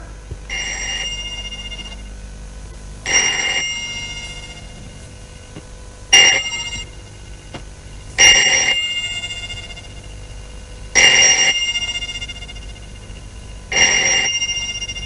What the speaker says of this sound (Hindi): ये किसका फोन हो सकता है?